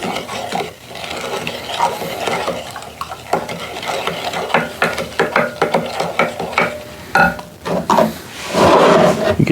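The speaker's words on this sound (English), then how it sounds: "Stir, stir, stir, stir, stir." A coconut lime moonshine mixture is stirred in a pot, giving repeated scraping and clinking strokes at a steady rhythm, close and fairly loud, with brief talk in places.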